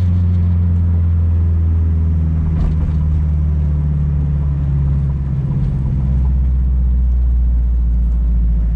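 Turbocharged K20-swapped Honda Civic hatchback accelerating at half throttle in third gear, a loud, deep continuous engine drone heard from inside the car, rising steadily in pitch with a brief dip midway and no talking.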